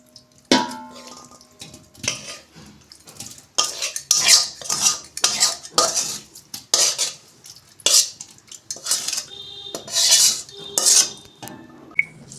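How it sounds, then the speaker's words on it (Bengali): Vegetables are stirred into a biryani pot with a metal spoon, giving a series of irregular scraping and clinking strokes against the pot, close and fairly loud, with short pauses between bursts and no talking. "এই যে হাঁড়ির মধ্যে আমি সব সবজিগুলো দিয়ে দিয়েছি।"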